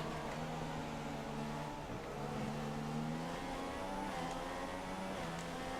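In F1 2016, a Formula One car at the Australian circuit holds a steady, buzzing engine whine whose pitch rises and dips slightly as it overtakes. The sound is continuous and moderately loud.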